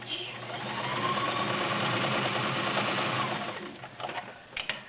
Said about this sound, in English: It's very strong, nice, smooth sounding machine.